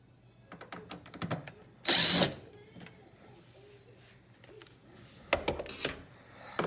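A power drill spins out T20 Torx screws from a dishwasher front panel, a short loud whirring burst amid clicks and small taps of handling, fairly close with no talk.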